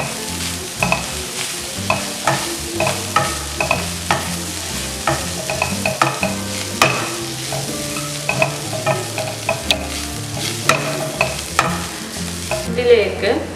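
Ground chicken sautéing in a hot pan, a continuous sizzle broken by repeated scraping stirs at an uneven rhythm, close and fairly loud.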